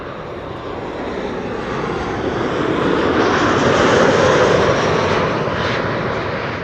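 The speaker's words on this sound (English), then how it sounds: "KLM 737 coming in here" A KLM Boeing 737 jet arriving at Amsterdam Schiphol Airport gives a loud, steady engine roar that swells to a peak midway and then eases slightly, with no voices.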